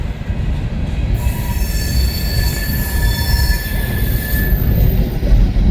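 KCS locomotives 1776 and 4905 haul a train past at close range: a loud, continuous heavy rumble with sustained high metallic wheel squeal over it.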